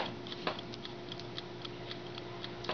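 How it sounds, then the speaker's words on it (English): The mechanical timer dial of a Chefman air fryer ticks in a steady, quick, even rhythm, close and fairly quiet over a low hum, with no voices. "If you can hear that ticking."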